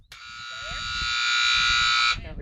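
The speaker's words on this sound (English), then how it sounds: "And we're going to hear a buzzer here shortly." A loud, steady electronic buzzer sounds for about two seconds at a sheepdog trial in a national finals sheep round, then cuts off abruptly as an announcer's voice continues underneath.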